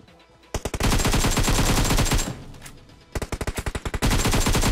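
Rapid automatic gunfire in the shooting game PUBG Mobile, loud close bursts of evenly spaced shots separated by short pauses, with one sustained burst near the end.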